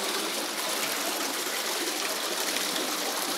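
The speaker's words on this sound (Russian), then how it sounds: "Какой-то поток идет. Хороший такой." Water flows through an underground collector pipe beneath the city of Perm, a loud, steady rushing and gurgling stream close by that fills the whole stretch without pause or talking.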